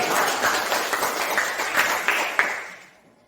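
A group applauds in a lesson setting, a dense wash of clapping that holds steady for a few seconds with a few sharper claps, then fades out toward the end.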